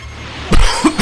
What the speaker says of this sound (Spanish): no paro de toser